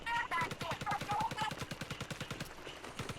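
A soap bottle splattershot firing in Splatoon Raiders, a rapid steady stream of punchy shots like a machine gun, loud and close, with a voice speaking over the first part.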